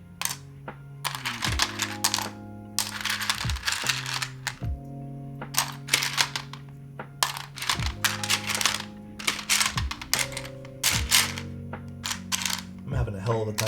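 Keys clacking on a custom mechanical keyboard fitted with new keycaps, a busy run of sharp, close taps in bursts, over a steady hum of background music.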